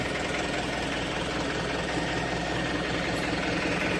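A Yanmar 72 hp tractor engine runs continuously and loud, a dense low rumbling drone with steady mechanical knocking and vibration, close by with no speech.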